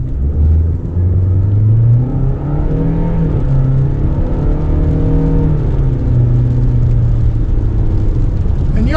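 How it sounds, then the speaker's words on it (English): A 2026 Toyota Corolla SE hatchback with a 2-liter inline four accelerates under load, giving a steady engine drone and driveline hum with rising harmonic sweeps as it gains speed, heard from inside the cabin with no talk. "you are going to get some driveline noise when this vehicle is under load"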